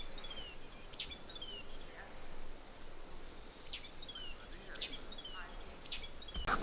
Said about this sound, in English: Can you guys hear that? I've never heard a bird make that noise.